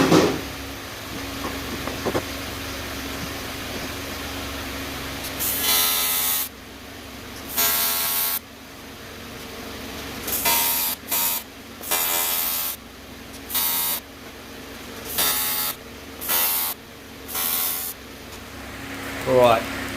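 Tack welding on a steel frame for an electric trolling motor bracket on a boat: a series of short, loud bursts of crackling arc, each lasting about half a second to a second, separated by brief pauses, with faint background noise before the first tacks.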